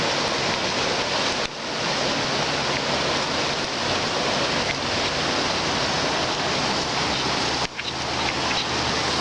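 The flooded New River rushes past in a steady, loud, broadband roar of moving water close by, with no talk, briefly interrupted twice by short cuts.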